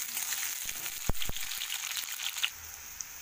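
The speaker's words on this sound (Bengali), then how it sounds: "আলুগুলো ভালো করে ভেজে নেব" Potatoes fry in hot oil in a wok, giving a steady broad sizzle with a couple of sharp knocks from a utensil partway through.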